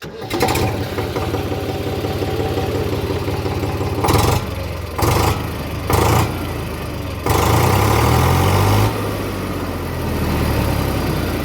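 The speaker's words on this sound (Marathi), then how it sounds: "ट्रॅक्टरचा आवाज आहे तुम्ही या टाईपमध्ये आपल्याला भेटून जाते" An Eicher 485 45 HP tractor engine idles loudly and steadily close by, with a few brief surges and bursts in the middle, no voices.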